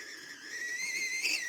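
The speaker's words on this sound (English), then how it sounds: "You definitely can hear the whistling of the kettle" A Medelco glass kettle on the heat gives off a steady, piercing whistle with a few wavering tones that swell slightly toward the end, heard alone and fairly close.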